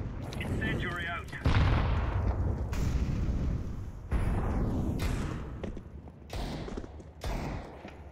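Battle sounds from a Counter-Strike 2 match on the Nuke map fill the scene as an incendiary grenade is thrown, with booming gunfire and blasts in loud, overlapping bursts.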